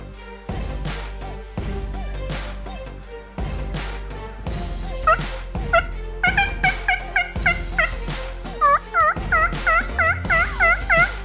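Wild turkey gobbling in the woods, several distinct gobbles that start farther off and grow louder and more frequent, with a rapid string of rattling gobbles near the end.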